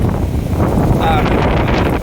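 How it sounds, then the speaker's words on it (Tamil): Wind buffeting the microphone outdoors where a fan has been set up to drive a DC motor as a small wind generator; steady loud rushing gusts throughout with voices faintly underneath. "காற்று வந்து டைரெக்ஷன் மாறிடுது"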